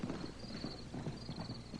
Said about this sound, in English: He heard a horse galloping away